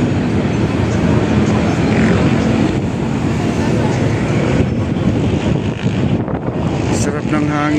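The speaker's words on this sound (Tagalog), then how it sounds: "Sarap ng hangin dito oh." Strong wind buffets the microphone at a Plaza Mexico lookout, a loud continuous rush with a droning engine-like hum, while a person speaks over it.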